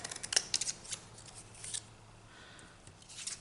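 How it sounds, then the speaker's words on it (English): A long pair of scissors cuts through a paper Christmas tag, making a few crisp, close snips at the start followed by quieter paper rustling and handling. "I'm just going to use a long pair of scissors and just cut beneath the line here."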